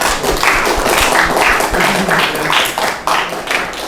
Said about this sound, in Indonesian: Beri tepuk tangan dulu sama Mbak apa ya, maaf, sama kelompok juga.